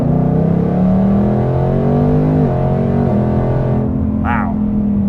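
A 750 HP supercharged car accelerates hard under automatic transmission, engine pitch climbing in steps through several quick upshifts, loud and close, as if heard from inside the cabin, ending in a short high whine.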